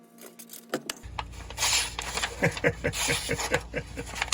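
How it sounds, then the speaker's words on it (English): A knife freshly sharpened on a brick is drawn repeatedly across a strop, giving a quick series of close scraping, rasping strokes in a steady rhythm after a short pause. "Let's put it on the strop and see what happens."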